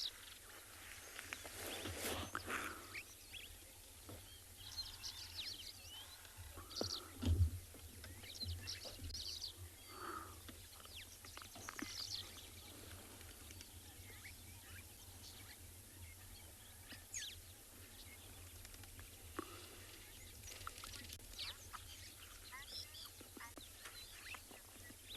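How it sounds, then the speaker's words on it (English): Birds chatter and chirp around a watering hole in South Africa on a morning safari, scattered calls near and far over a faint outdoor hum. "allow you to soak up the beautiful sounds of birds chattering away"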